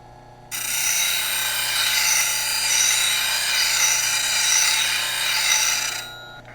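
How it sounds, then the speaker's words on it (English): Wood lathe tool heel held against an 80 grit CBN sharpening wheel, one continuous steady grinding hiss lasting about five seconds over a low motor hum, close and alone. "I'm just going to rock the heel on the sharpening wheel"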